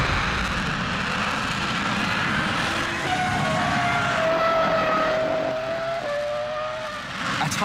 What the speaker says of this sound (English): the afterburners on full reheat immediately took effect